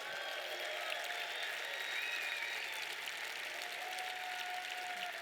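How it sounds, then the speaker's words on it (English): Sustained audience applause at a conference, dense and steady throughout with no speech over it. "Clap it up for Grant for putting this together."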